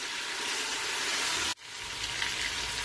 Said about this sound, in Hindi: अदरक लहसुन पेस्ट डाल के मैंने इसे फ्राई कर लिया